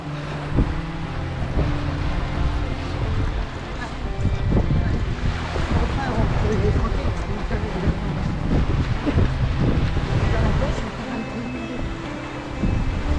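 Surf washing onto a long sandy beach on Île d'Oléron, a broad continuous roar mixed with strong wind buffeting the microphone and faint voices in the background.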